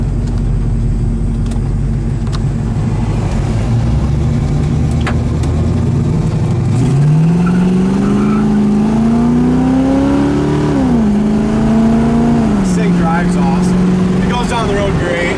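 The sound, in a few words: 1970 Camaro 350 V8 car driving on the road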